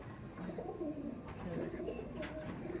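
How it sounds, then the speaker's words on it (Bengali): A female pigeon coos softly in a few low, rolling phrases, faint and close, against quiet background noise. "মাদি পায়রা"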